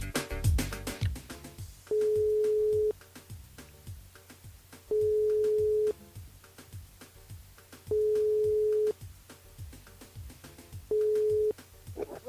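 Outgoing telephone call during a live radio show, a steady repeating ringback tone sounding about once every three seconds, four times, with no talk over it.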